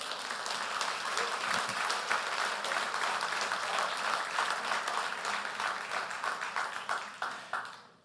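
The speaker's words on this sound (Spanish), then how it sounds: "¿Por qué no damos otro aplauso al Señor?" A church congregation applauding together after a sermon, a steady wash of many hands clapping for several seconds that thins and fades out at the end, heard at moderate distance.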